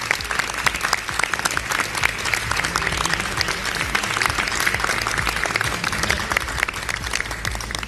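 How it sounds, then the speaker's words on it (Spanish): Sustained audience applause in a hall for minister Montes, dense and steady clapping throughout with a faint crowd murmur underneath. "Yo quiero volver a reiterar el aplauso al ministro Montes"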